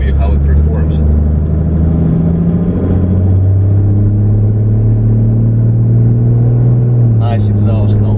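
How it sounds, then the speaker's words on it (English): Toyota Land Cruiser HDJ81V with a 1HD-T 4.2-litre turbo diesel cruising on the highway, a loud, steady low engine drone with a slowly shifting pitch that rises then settles, continuous throughout; brief voices are audible at the start and near the end. "Nice exhaust note."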